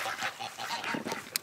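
Ducks over a homestead pond give a quick series of nasal honks and quacks, fairly close and moderately loud, with no talking.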